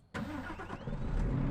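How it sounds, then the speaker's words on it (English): Truck engine in Euro Truck Simulator 2 cranks and catches after a brief silent start, then settles into a steady, close, rumbling run with no talk over it. "I guess the truck wanted to start so badly, it started for me"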